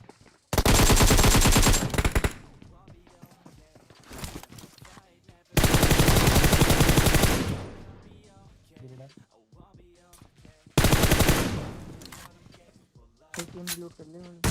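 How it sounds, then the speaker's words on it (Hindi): AKM rifle fire in PUBG Mobile comes as three loud, sustained automatic bursts, each about one and a half to two seconds long, separated by quieter in-game sounds. "एकेएम लेके खड़ा हूँ, मैं गोली भी चला रहा हूँ"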